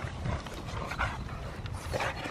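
Several dogs romp together at a play date, with soft panting and scuffling close by and brief yips rising over a steady rustle.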